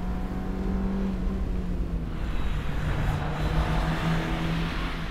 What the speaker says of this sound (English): There's some interesting noises coming from this car.